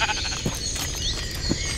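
Sheep bleating in a video game, a couple of short, close, nasal bleats over a faint background hum, with no talk.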